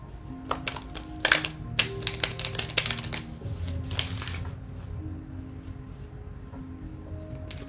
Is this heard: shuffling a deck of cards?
yes